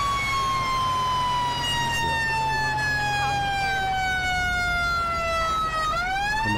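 Fire engine siren in GTA 5, one loud, continuous wail that slowly falls in pitch, then swings back up at the end, heard alone over a low engine rumble.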